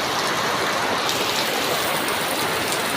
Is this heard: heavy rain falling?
yes